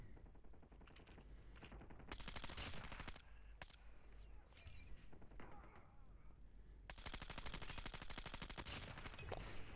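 Rapid long-range gunfire from a Bruen MK9 rifle in Call of Duty, sounding as loud bursts of repeated shots that come in two dense stretches and are separated by a quieter gap.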